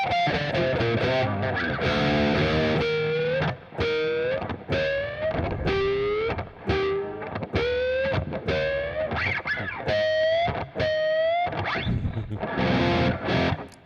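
An electric guitar with heavy distortion plays a run of sharp, squealing pinch harmonics, the notes sustaining and bending with short gaps between phrases, loud and alone.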